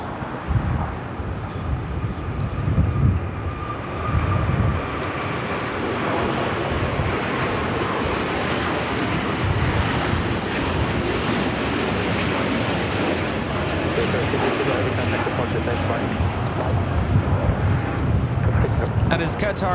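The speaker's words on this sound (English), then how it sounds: "That is Qatar Airways 740 taking off to Doha on the A350 1000" A Qatar Airways Airbus A350-1000 takes off at Los Angeles airport, a sustained broad jet roar mixed with wind buffeting on the microphone, holding steady and loud for the whole stretch.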